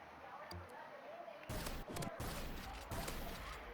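Shotgun blasts in the Roblox game Rivals, a burst of heavy gunfire starting abruptly partway through and continuing in rapid overlapping shots, fairly quiet overall.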